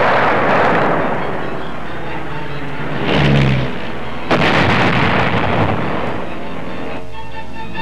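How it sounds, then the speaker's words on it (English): Heavy explosions from bombs striking old German battleship targets in a precision bombing demonstration, heard as deep booming rumbles with a sharp blast near the middle, loud and free of talk. "Using some old German battleships as targets, Billy Mitchell showed what precision bombing could do."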